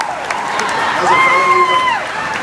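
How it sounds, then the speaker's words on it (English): A rally crowd gives a birthday cheer, a sustained wash of voices rising in the middle and tapering off, with one long shrill whoop or whistle riding over it. "big cheer for Jay Clayberg"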